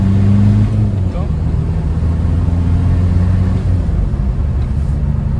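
A turbocharged car engine pulls hard under acceleration, its steady drone rising with a faint turbo whine spooling up, loud and close inside the cabin.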